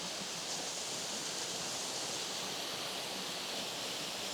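Water tumbling down falls makes a constant broadband roar, bright and hissy, heard up close and holding a uniform level without pauses or talk.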